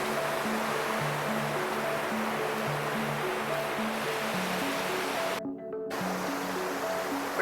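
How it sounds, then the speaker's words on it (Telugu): Ocean waves at Pandurangapuram beach make a steady, loud roar of surf with no breaks between swells, and tonal, music-like notes run over it throughout; the sound cuts out briefly near the end. "ఇప్పుడైతే నేను మీకు బీచ్ అలా చూపించేశాను కదా"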